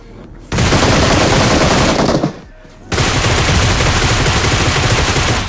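Loud, dense gunfire from the BGMI mobile battle game rattles on in sustained automatic bursts, breaking off briefly for about a second before resuming at full intensity.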